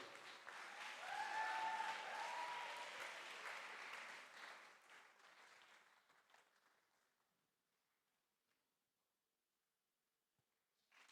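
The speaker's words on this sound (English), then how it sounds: "let's give a round of applause for Brother Dylan and Sister Absola" A convention audience at a youth gathering breaks into warm applause for two speakers. The clapping swells loudly in the first seconds, then thins and fades out to near silence, leaving only a few scattered claps at the close.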